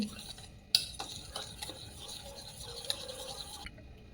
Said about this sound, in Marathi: लागेल तसं दूध घेऊ आणि बॅटर असं फिरवून फिरवून घेऊ.